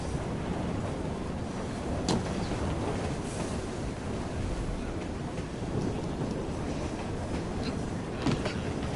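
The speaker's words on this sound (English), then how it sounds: "Be on our way soon as the train slows." A steam-era train rolls along in Assassin's Creed Syndicate, a dense continuous rumble and rattle of carriages with occasional sharp clanks. The sound is loud, steady and close, with no talk.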